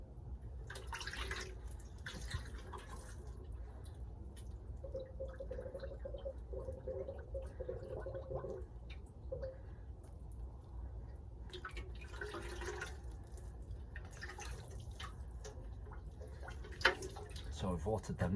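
Water poured over freshly sown leek seeds in an allotment garden: a steady, soft hiss of trickling and splashing that swells and eases, close by, with a voice speaking at times.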